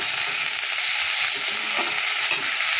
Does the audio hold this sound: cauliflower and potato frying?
yes